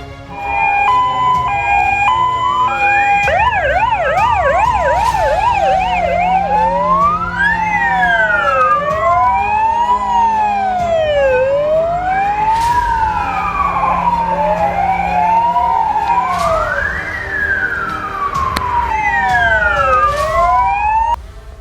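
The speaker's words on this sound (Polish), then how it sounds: "Zezwalam na użycie sygnałów świetnych i dźwiękowych." Polish police car siren running continuously and loud, its wailing tone sweeping up and down with overlapping cycles and occasional sharp horn-like blasts, with no talk over it.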